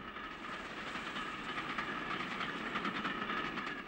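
Steady rumbling of an LMS Stanier Jubilee steam locomotive emerging from a tunnel on the Midland Main Line, with rhythmic clatter and hiss, continuous and fairly distant, with no voices.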